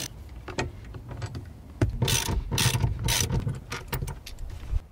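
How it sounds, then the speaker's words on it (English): A ratchet wrench works seat bolts inside a Nissan Xterra/Frontier/Pathfinder/Armada, with clicking mechanical ratcheting in quick, uneven bursts, close and fairly loud, without talking. "Grab your ratchet again. Same size."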